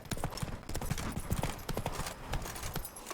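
Roach, the horse in The Witcher 3, clip-clops steadily, the hoofbeats close and regular over a dense ambient game background.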